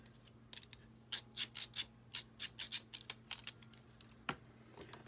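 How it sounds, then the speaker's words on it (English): Several pairs of craft scissors being picked up and handled, their blades snipping and clicking in a quick irregular series of close, crisp metallic snaps against a quiet background hum. "Then we have all these fun scissors."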